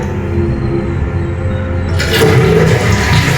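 A toilet with a newly replaced flush lever flushes with a loud rush of water that surges and keeps gurgling steadily, close by, with no voices.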